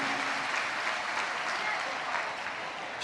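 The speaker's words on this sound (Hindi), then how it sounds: "एक बार जोरदार ताली बजाकर स्वागत वंदन अभिनंदन है।" An audience at a Shiv Mahapuran religious discourse applauds to welcome Yogi Adityanath, a loud, sustained crowd clapping that holds steady from start to finish.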